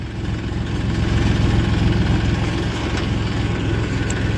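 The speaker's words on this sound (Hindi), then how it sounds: "ट्रैक्टर अकेला ही जा रहा है" A tractor engine idles and runs steadily at close range, a constant low throbbing rumble with no voices over it.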